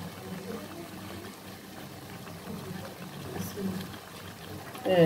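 Marinated mutton added to a cooking pot for a mutton curry with potatoes, making a steady close sizzle and bubbling hiss that swells louder at the end, with some talk mixed in.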